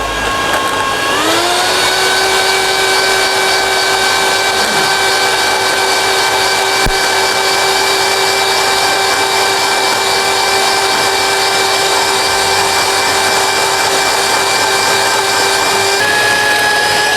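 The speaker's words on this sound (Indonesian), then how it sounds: "Kuning telur aku kocok dulu di sini." An electric mixer beats egg yolks with a loud, steady whine that spins up at the start and holds an even pitch, with a slight change near the end.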